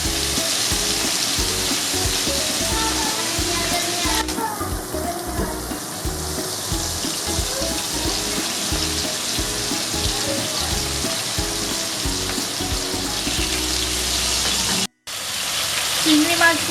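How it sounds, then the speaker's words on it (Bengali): Prawns fry briefly in hot oil with turmeric and salt for a Bengali pineapple prawn curry, giving a steady, close sizzle that runs unbroken and drops out for a moment near the end. "চিংড়ি মাছগুলো বেশি ভাজার প্রয়োজন হয় না, আমি এগুলো অল্প একটু ভেজে নিয়েই আমি এবার তুলে নেব"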